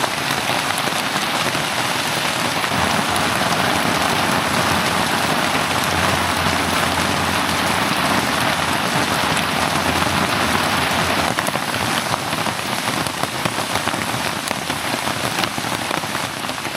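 Heavy rain drums constantly on surfaces around a pallet-wood tree house in the woods during a thunderstorm, a loud, dense, unbroken hiss with no voices.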